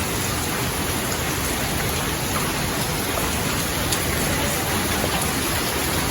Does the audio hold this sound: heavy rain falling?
yes